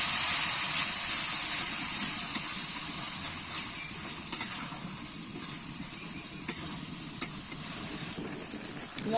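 Dry spices with turmeric and salt are sautéed with a splash of water in a pan, a continuous close sizzle broken by occasional sharp scraping clicks of a spoon stirring.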